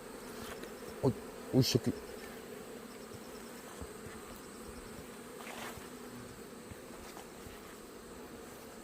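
Hornets hover and buzz around beehives outdoors, a faint continuous insect drone with a few brief louder buzzes as they pass close, and a short spoken remark.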